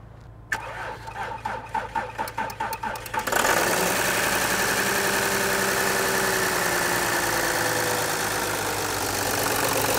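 A VW Touareg 3.0 TDI V6 diesel fitted with a snorkel kit cranks with a rapid rhythmic starter churn, catches after a few seconds, and settles into a loud, steady close-up idle.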